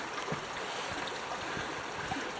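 Hagood Mill Creek flowing beside a nature trail, a steady, unbroken rush of water that fills the whole moment at a moderate distance.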